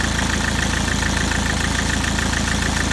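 A Mk4 Ford Mondeo engine idles just after starting, a steady, even mechanical thrum with a fine regular pulse, close up and constant, with no voices.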